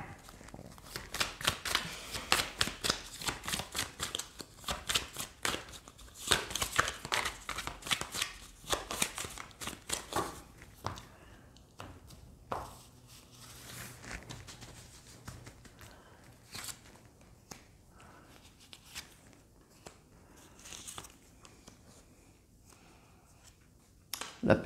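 A deck of oracle cards is shuffled in rapid riffling bursts for about ten seconds, then handled and laid out with softer sporadic taps and slides, close and quiet.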